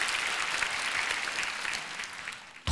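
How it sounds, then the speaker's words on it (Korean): An audience at a church prayer gathering applauds, a dense even patter of clapping that holds steady and fades slightly before a sharp thump at the end. "박수가 나와야 되는 거죠."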